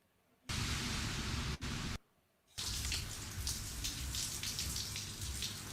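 Rain, a hissing wash of falling water that cuts in and out in two short bursts, then settles into a steady patter with scattered drops, fairly close.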